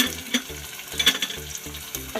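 Cabbage, curry leaves and green chili fry in a pan with a steady crackling sizzle and a regular pulse of stirring, close and fairly loud, with no talking.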